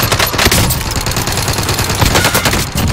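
Rapid, dense gunfire from Call of Duty Warzone, sustained bursts of shots that run loud and nearly continuous with no talk over them.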